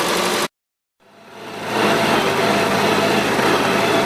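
A 1977 Gravely GMT 900 garden tractor engine, carburetor just cleaned, runs on full choke. Its high, steady drone cuts out for half a second, then swells back to a constant close, loud running note.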